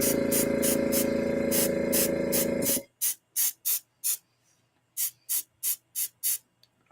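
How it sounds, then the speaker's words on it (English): A marker airbrush sprays ink onto a sketch card, first as one long steady hiss, then after a pause as about nine short, evenly spaced bursts close to the mic. "To kind of finish it out in the spray mode."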